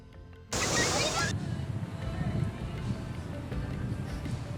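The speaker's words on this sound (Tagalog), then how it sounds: "may kataasan at kalakasan yung alon sa baybayin" Ocean surf breaking on the shore at Tondaligan Beach during a busy holiday, with high, strong waves; a steady, loud wash of water rises abruptly and continues throughout.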